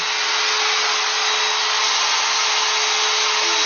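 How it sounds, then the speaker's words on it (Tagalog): A vacuum cleaner runs over a house floor with a loud, steady motor whine and airflow rush. It stays constant and close for the whole stretch, with no voices. "Doon, sa sahig, doon. Doon ka mag-vacuum."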